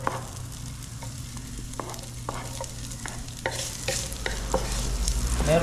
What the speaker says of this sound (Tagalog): Mainit pa yan, kaya gisahin na natin itong luya.